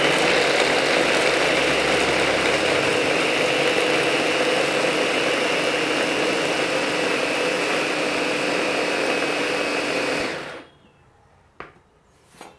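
An electric vegetable chopper grates coconut pieces, its motor giving a loud, steady whirring drone for about ten seconds before cutting off abruptly into near silence with a couple of faint knocks.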